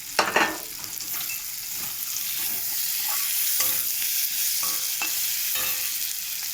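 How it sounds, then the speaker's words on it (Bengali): Food sizzles steadily in a hot pan while a utensil scrapes and stirs at irregular intervals, close by. "লাল করে ভাজা হয়ে গেছে কেমন"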